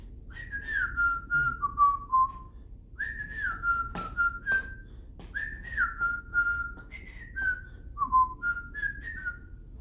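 Someone whistles a melody alone, in short phrases with gliding notes and brief pauses between them, clear and close.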